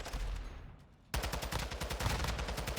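Fast automatic gunfire in a Call of Duty esports match, a quieter shot-filled stretch giving way to a loud, rapid string of shots that runs to the end.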